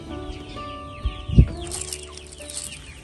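Chickens fed eggshell breeder pellets cluck softly and peck nearby, with a few short calls and a brief thump in the middle, all close and moderately quiet.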